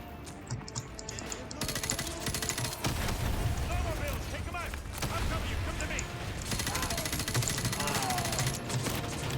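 Gunfire from the video game Call of Duty Modern Warfare 2, dense bursts of automatic fire and explosions crackling continuously throughout, with a player's voice talking over the battle.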